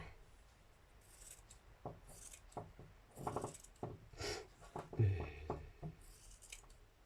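Scissors cut a t-shirt into strips of yarn, giving quiet, separate snips and rustles of cotton fabric at irregular intervals in a still room.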